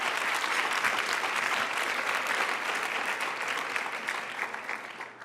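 Sustained applause from a crowd fills the space, dense and even, then gradually thins and fades toward the end.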